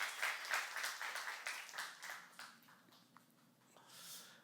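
Church congregation applauding during a youth-group sermon, a dense burst of clapping that gradually thins into scattered claps and fades.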